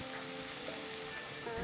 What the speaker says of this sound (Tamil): இஞ்சி சேர்த்து நல்லா வதக்கணும்.